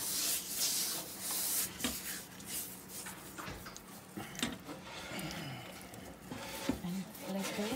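Hands rub butter and brown sugar onto a Thanksgiving cut of meat, giving soft, close, irregular rubbing and smearing sounds with light taps, while people talk over it.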